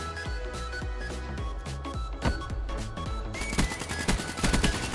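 Rapid bursts of automatic gunfire in Call of Duty Black Ops 3, loud and close, with repeated sharp shots stacked over a dense game soundscape and swelling into heavier fire near the end.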